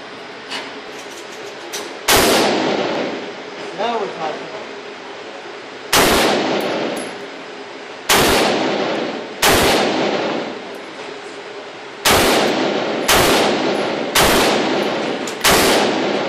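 Single gunshots from an IMI Tavor TAR-21 rifle ring out one at a time, about ten loud, sharp cracks with irregular gaps and echoing tails. No voices are heard.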